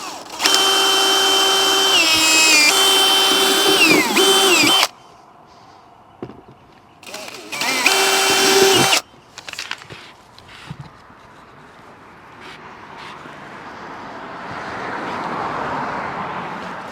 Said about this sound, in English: So I'm going to go ahead and drill pilot holes here, here, and then I got 2 more on the other side as well.